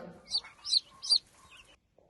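A chicken clucks three times in quick succession, close and clear, before falling quiet.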